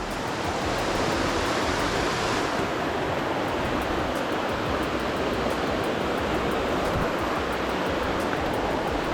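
A hidden waterfall, Kapuka Falls in Davao Oriental, Philippines, roars in a steady, dense rush of falling water, loud and close, with no talking throughout.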